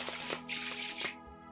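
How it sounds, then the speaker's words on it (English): A riffle shuffle of a deck of playing cards gives a close, continuous fluttering rattle as the two halves weave together, ending in a soft settling slap. "you've now done the riffle shuffle"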